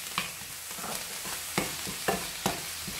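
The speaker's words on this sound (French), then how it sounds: "Donc on va faire revenir jusqu'à ce que les oignons deviennent translucides." Chopped onions and mushrooms sautéing in a little oil, a soft continuous sizzle with several sharp utensil stirs and scrapes against the pan, close by and quiet, no voices.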